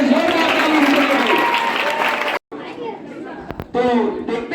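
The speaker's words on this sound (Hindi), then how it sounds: "जोरदार ताली।" An audience of students claps at a science and mathematics club quiz competition held at a government higher secondary school, the applause mixed with crowd chatter and voices, then breaking off into murmuring talk.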